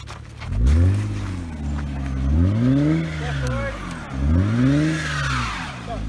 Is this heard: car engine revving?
yes